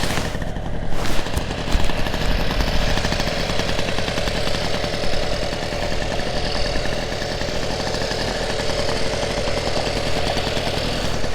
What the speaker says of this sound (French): Donc vélo Solex 6000 de 1972.